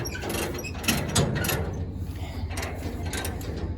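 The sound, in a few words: chaining tractor down with chain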